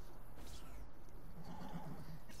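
A horse in Assassin's Creed Brotherhood gives a faint, muffled whinny that stands out only slightly from a steady background rumble. No one speaks.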